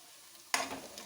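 Sliced onions frying in a hot pan until light golden; a quiet stretch breaks into a sudden loud, steady hiss of sizzling oil that holds to the end.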